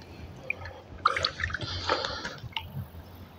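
A fish released back into river water makes a small splash and wet drips, brief and fairly close, among soft outdoor background noise.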